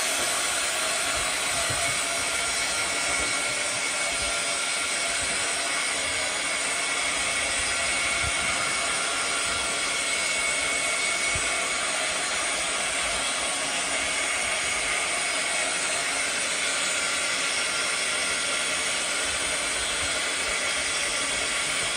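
A heat tool blows a steady, loud, unbroken hiss while drying a painted art journal page, its airy whoosh constant for the whole stretch with no talking.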